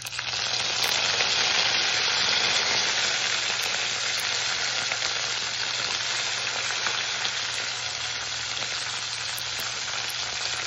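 Curry leaves dropped into hot oil in a pan while making puffed-rice upma, giving a loud, steady, continuous sizzle and frying crackle that holds throughout with no talking.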